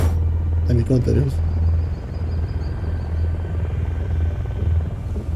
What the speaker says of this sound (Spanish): Helicópteros.